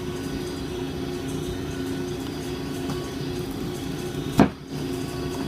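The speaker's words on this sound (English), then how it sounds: "my packaging machine is on if you hear some noise in the background" A soap packaging machine hums and whirs steadily in the background, joined near the end by a brief, sharp mechanical swish.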